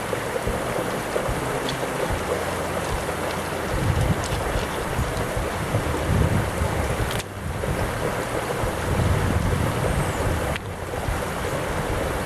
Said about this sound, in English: I'll rinse those off a little bit.